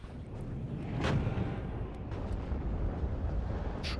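An artillery barrage in the video game WARNO sounds as distant, rumbling booms and a few sharper blasts rolling over a low, continuous roar at moderate loudness.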